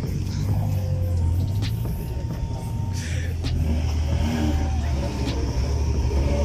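At a Kenyan car event, a car sits on a 2-step launch limiter, its engine rumbling and revving in a steady, loud drone amid crowd noise and shouted voices.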